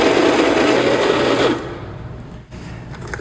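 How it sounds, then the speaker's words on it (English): An electric coffee grinder whirs loudly through coffee beans for about a second and a half, then cuts off, leaving a faint residual rattle and a brief click. "So I'm going to finish grinding the rest of the coffee now."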